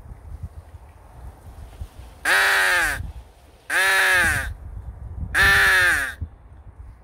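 A voice imitates a crow on a crow-shooting outing, three loud, harsh caws about a second and a half apart, each a buzzy descending rasp, with faint wind and rustle between.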